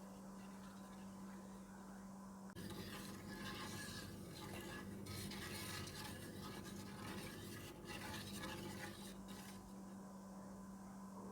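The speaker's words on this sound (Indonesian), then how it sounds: "Lalu kita nyalakan apinya dan kita aduk terus ya." Melting chocolate stirred steadily in a pan over heat, a continuous rasping scrape of the utensil across the pan bottom that starts abruptly and runs for several seconds at close range before easing off.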